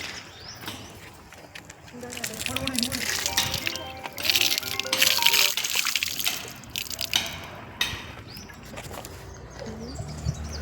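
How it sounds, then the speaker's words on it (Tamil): Water poured out during an outdoor ceremony where everyone takes a turn, its splashing mostly buried under a busy crowd of voices, with birds cooing nearby. "எல்லோரும் தண்ணி விடலாம் சார்."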